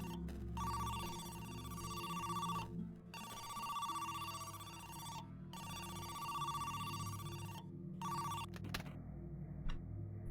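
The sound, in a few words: telephone ringing in the ARG video game Who's Lila?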